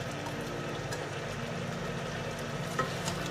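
Soaked rice noodles stir-fry in melted sugar in a pan, a steady, close sizzle with soft scraping and an even low rumble underneath throughout.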